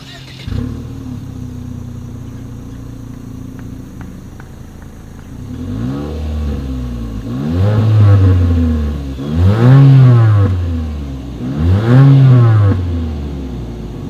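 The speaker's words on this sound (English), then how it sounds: "As always, here is that exhaust clip." A 2020 Mitsubishi Eclipse Cross engine idles with a low exhaust burble, then revs hard three times in rising, booming bursts, close and loud.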